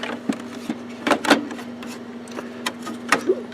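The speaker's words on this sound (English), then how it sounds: "Now I'm going to put the print head back in." A print head is seated back into an HP Officejet Pro 8600-series inkjet printer, giving several short plastic clicks and knocks at close range over a steady low hum, with no talking.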